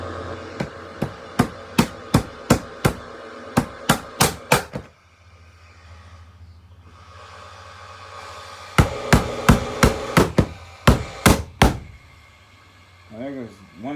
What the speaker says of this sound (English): I'm going to slowly start hitting it with a hammer